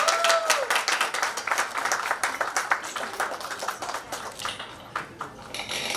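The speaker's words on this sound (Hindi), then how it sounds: "एक बार जोरदार तालियां हो जाए" An audience at an occult science awards event claps for an artist's silver and grey painting, with distinct individual claps forming a lively, uneven burst that thins out toward the end.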